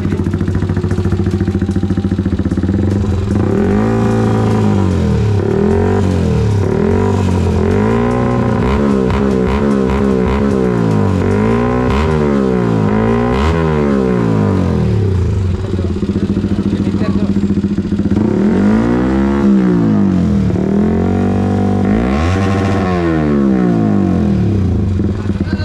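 A Yamaha WR155 motorcycle, set up supermoto style with a newly fitted Herex exhaust, revs repeatedly through loud rising and falling sweeps, close to the microphone, with a few quieter idle gaps in between.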